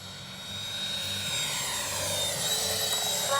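A Freewing F-22 RC jet cruises by slowly with landing flaps out, its steady engine whine holding at moderate loudness and swelling slightly as it passes, alone without voices.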